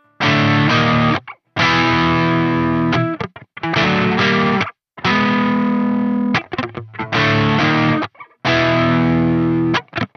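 Heavily overdriven electric guitar through a Soldano SLO-100X amp, Overdrive 1 stacked into Overdrive 2, plays loud sustained chords and riffs in five bursts with short silent gaps between them.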